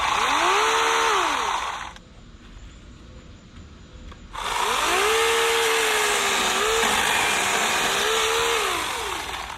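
A Teccpo 40-volt battery chainsaw runs loud and close, whining at high speed, dropping to a quiet idle for a couple of seconds, then revving back up to a steady full-throttle scream with no talking.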